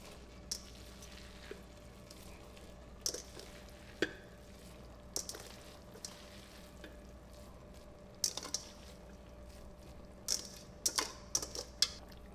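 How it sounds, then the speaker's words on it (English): Relish mixture simmering in a pot on a stovetop, a soft steady bubbling hiss broken by scattered small pops and clicks, close and quiet, with no voices. "Now we're gonna let this simmer"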